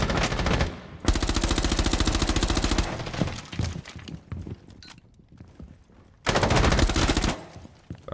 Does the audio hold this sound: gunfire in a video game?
yes